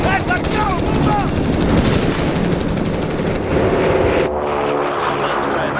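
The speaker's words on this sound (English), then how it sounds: "Heavy machine gun has been requisitioned." Heavy machine gun fire in the war game Company of Heroes 3: loud, rapid, sustained bursts that fill most of the clip, with battlefield din and game voices mixed underneath.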